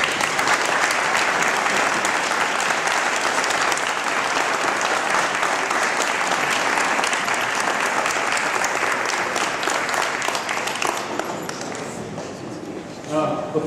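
Sustained applause from an audience honoring performers of Italian music at a Columbus Day event, loud dense clapping filling the room for over ten seconds before thinning out near the end.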